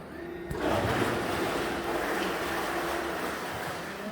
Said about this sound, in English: park the boat again, so it's gonna splash a little more